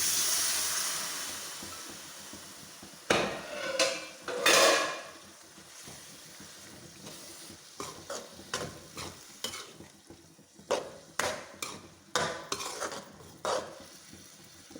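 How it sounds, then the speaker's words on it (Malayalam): Cooked jackfruit going into a pan of fried onion-tomato masala for a Kerala masala curry, with a few loud scraping stir strokes and soft sizzling, followed by lighter clinks of a spoon against the pan. "ഇനി നമ്മുടെ മെയിൻ താരം കുക്കറെ വേവിച്ചിരിക്കുന്ന ഇടിച്ചക്ക ഇടാം."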